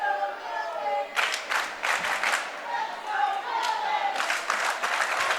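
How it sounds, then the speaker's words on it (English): Student sections in a high school volleyball gym cheer and clap in bursts of crowd noise over a steady hum of voices, with a commentator talking over the din. "But both student sections are making good noise"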